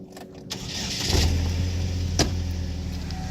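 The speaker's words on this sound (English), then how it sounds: "And we'll fire the car up." A car with a 2.4-liter engine cranks briefly and catches, then settles into a steady, close idle with a faint hum.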